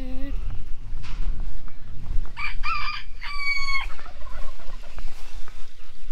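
A rooster crows amid clucking chickens, loud and close, with people talking and general farmyard noise running underneath.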